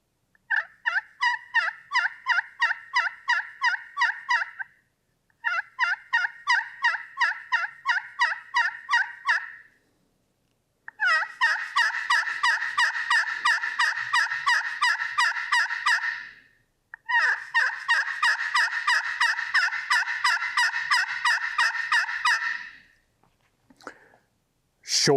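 A turkey pot call worked with a striker makes fast series of sharp, clean yelps in four separate runs, each a rhythmic string of rasping notes with short silent gaps between runs.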